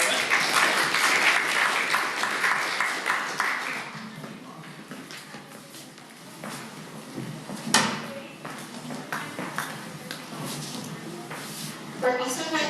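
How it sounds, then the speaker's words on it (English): Audience applause at a guest speaker event, fairly quiet and fading after a few seconds into scattered claps and room noise, with a few separate knocks and a brief burst of clapping at the end. "let's give our moderators a round of applause"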